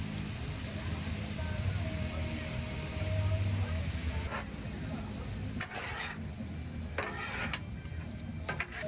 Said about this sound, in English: I'm going to throw down some sesame oil, throw on some garlic, throw on some soy sauce.